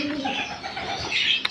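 A pigeon coos close by in a short, soft, throaty call, with brief chirps and a faint voice in the background.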